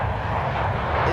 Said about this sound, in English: Emirates arriving, flight 145 to center